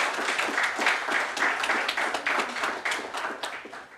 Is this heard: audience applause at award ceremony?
yes